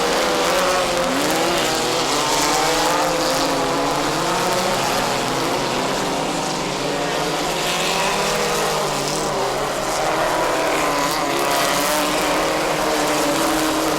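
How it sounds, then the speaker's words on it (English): Race cars speeding around a New England racetrack, a loud continuous engine drone with rising and falling pitches as cars pass close by and fade, layered and unbroken, with no talking. "That's the 5 of Kevin Chafee, the red car just went by."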